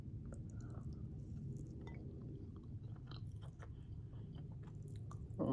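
Close, soft chewing of sweet potato bread, steady moist munching with faint squishy bites over a quiet background and a brief louder knock at the very end.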